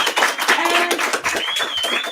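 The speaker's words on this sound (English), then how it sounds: "Can everyone give a big round of applause because it's his first time" Applause and clapping from a small audience at a home auction gathering, a steady dense patter of hands lasting a couple of seconds with some voices mixed in.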